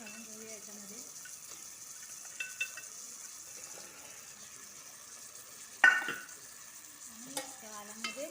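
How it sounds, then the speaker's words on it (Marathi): Okra (bhindi) is added to a pan of val beans cooking in masala, giving soft stirring and a faint sizzle, with one sharp clatter midway and a quiet voice now and then. "आता आपण ते नवधारी भेंडे आहेत ते घालून घेऊया याच्यामध्ये."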